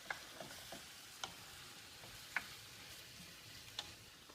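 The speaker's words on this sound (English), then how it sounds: "give it a nice stir" Pasta al diavolo sauce being stirred in a pan: faint low sizzling with soft spoon scrapes and a few light clicks against the pan, quiet and close.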